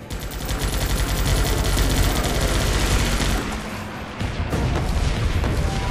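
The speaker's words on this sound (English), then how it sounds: "Okay, I'll just start bombarding here again." Bombardment and gunfire from the Guns Up! video game: a loud continuous barrage of rapid shots and booming explosions, dense and steady for several seconds before thinning slightly near the end.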